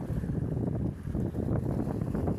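Low, steady rumbling sea wind buffeting the microphone outdoors, a continuous roar with no voices.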